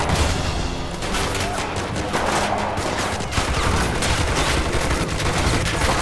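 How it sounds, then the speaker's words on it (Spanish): Dense, continuous gunfire from the World War II game Call to Arms during a Stalingrad battle, with machine-gun bursts, rifle shots and occasional booms layered into a loud, unbroken battlefield din. "Cuidado con el nido. Ahí hay bastantes ametralladoras."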